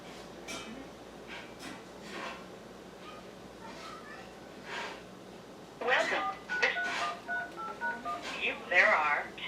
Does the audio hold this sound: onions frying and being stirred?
no